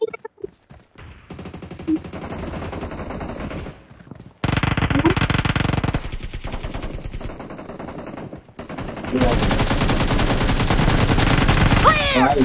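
Rapid automatic gunfire in a PUBG Mobile team deathmatch, dense sustained bursts close and loud, broken by short pauses, with game-voice callouts mixed in.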